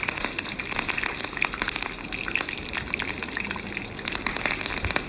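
Curry leaves and mustard seeds fry in hot oil with a dense, steady crackle and spatter, a continuous rain-like sizzle at close range with scattered sharper pops throughout.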